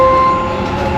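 A Dubai Metro train runs with a steady loud rumble and a sustained tonal whine inside the car, without speech.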